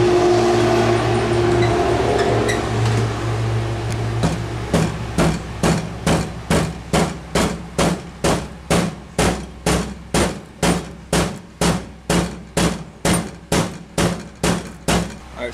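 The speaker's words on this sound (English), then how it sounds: "Now I'm going to try tapping it with a rubber mallet, see if that will do the trick." Rubber mallet tapping on a motor bearing casing during a motor rebuild on an original Honda Grom: after a stretch of steady background hum, evenly spaced sharp knocks repeat about twice a second, close and loud, with no speech.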